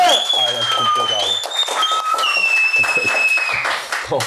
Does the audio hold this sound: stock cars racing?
no